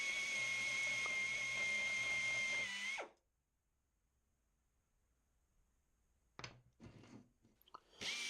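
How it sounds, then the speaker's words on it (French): A Silverline pneumatic belt sander fitted with a 40-grit belt grinds on wood, giving a loud, steady high-pitched whine for about three seconds before cutting off. Near-silence follows, then a few short bursts and clicks as the tool restarts. "on a à nouveau une ponceuse. Cette fois, c'est du grain 40 que j'ai mis"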